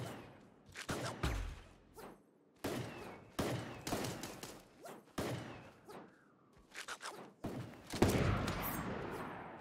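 Desert Eagle gunfire in Super Animal Royale, a rapid series of sharp, loud game gunshots in separate bursts, with several shots ringing out near the end.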